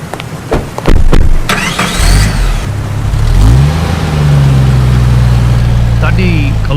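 A car engine revs hard as the vehicle pulls away, rising and holding a strained mid-pitched drone, preceded by sharp clatter and short bursts of voices at the start.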